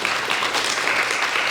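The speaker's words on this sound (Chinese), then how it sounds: "给他鼓掌。" Audience applause at a talk, a dense, steady wash of clapping from a crowd that holds evenly loud for the whole short stretch, with no voices over it.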